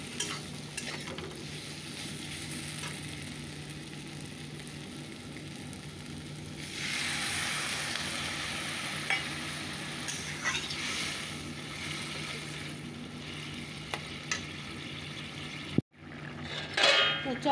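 Vegetables frying with spices in a pan, a steady close sizzle broken by scraping stir strokes that brighten the hiss midway, with no talking.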